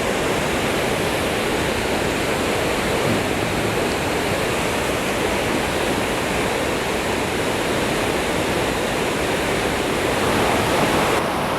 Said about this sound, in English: get a few shots of the water, rushing water right here below the falls